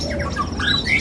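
Short bursts of bright, varied chirps and whistled notes from a bush lark at a bird shop, close by over a low background hum.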